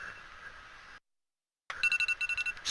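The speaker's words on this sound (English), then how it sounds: "Stop beeping!" A video game alarm sounds in the fantasy game Rift as a quick series of high, evenly pulsed electronic beeps, loud and close, after a short gap of silence.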